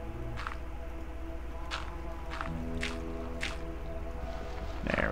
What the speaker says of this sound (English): I've gone like through 9 buckets of water here.